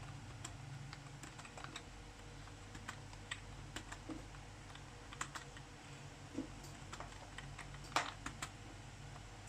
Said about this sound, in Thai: คีย์บอร์ดไร้คุณภาพ